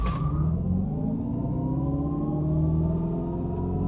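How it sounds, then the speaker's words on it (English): A 2025 Dodge Charger Daytona Scat Pack all-wheel-drive electric car launches in drag mode, accelerating hard with a steady low rumble and a rising whine as speed builds, loud and close throughout. "let's go see how this thing performs out here as we launch it."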